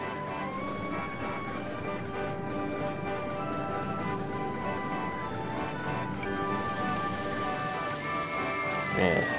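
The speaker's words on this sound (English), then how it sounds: "We're getting rain." Rain falling in the OpenRCT2 theme park simulation game makes a steady patter and hiss across the whole stretch, layered with faint ambient game sounds and a brief bump near the end.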